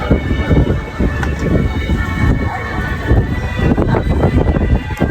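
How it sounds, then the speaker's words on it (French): Steady wind roars and buffets the microphone outdoors at Disney in Japan, a dense low rumble with gusty swells and no clear pauses. "Il y a la nature qui se déchaîne. Il y a du vent."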